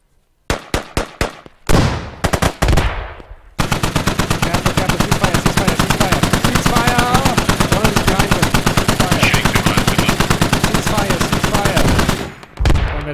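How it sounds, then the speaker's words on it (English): Gunfire in the military video game Squad: a few single sharp shots, then long sustained machine-gun bursts, loud and close and firing nearly nonstop for about nine seconds. "Start shooting him."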